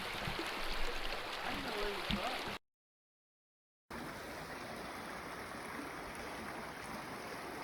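An icy river flowing in Spring Canyon, Capitol Reef: a steady, broad rushing of water, close and constant, briefly cut to silence before resuming just as strongly, with no talk.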